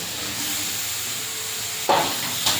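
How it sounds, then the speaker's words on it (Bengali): Potatoes, spices and tangra fish are stirred together in a pan in a village kitchen, a steady soft sizzle with two sharper scraping stirs near the end. "আলু মশলা ট্যাংরা মাছ একসঙ্গে একটু নেড়ে নেব"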